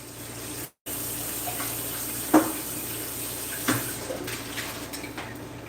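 Pan rinsed under a running kitchen tap during sticky bun baking, steady hiss of flowing water with a brief cut-off, then a few clanks and splashes as the pan is handled, no talking.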